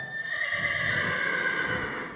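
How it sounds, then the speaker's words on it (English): A horse, a young colt being started, gives a long, sustained whinny up close, loud and steady throughout with no other sounds over it. "This is a good horse"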